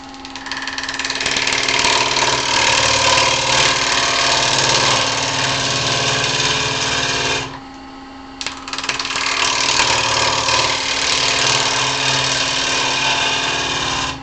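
Wood lathe spins a maple bowl at around 1000 RPM, a loud steady motor drone with a broad hum that drops away briefly in the middle, then resumes.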